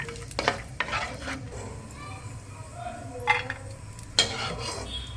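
Cashews fry in a pan for vermicelli bath, with a soft, steady sizzle underneath. A few distinct scrapes and clinks of a spoon stirring against the metal stand out, close and fairly quiet.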